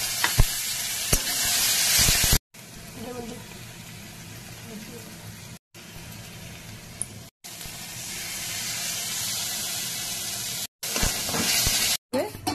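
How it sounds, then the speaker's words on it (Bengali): Onions frying in hot oil with cumin and nigella seeds for a pabda fish curry: a steady sizzle and hiss broken by short gaps, with a few stirring knocks near the start. "তেলটা গরম আছে, পেঁয়াজটা দিয়ে দেবো।"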